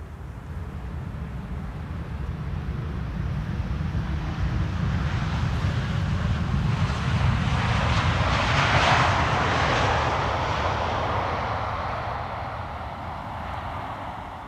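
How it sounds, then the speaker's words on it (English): A KLM Boeing 787-9 Dreamliner arrives at Amsterdam Schiphol after its flight from Mexico City, a broad jet roar swelling to a peak midway and then easing off, close and loud with some wind noise. "this is KLM flight 686 with the weird nose, arriving from Mexico City"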